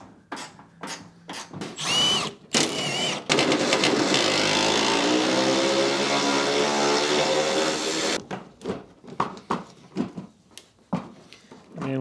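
Someone works on the bolts behind the headlight of a Cadillac Escalade, with short bursts of tool whir and clanks that give way to a loud sustained buzzing run of several seconds, then more scattered knocks and rattles.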